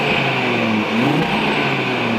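An Audi RS3 8Y fitted with an aftermarket exhaust idles after starting up, a steady close engine drone with a slight swell partway through, with no talking.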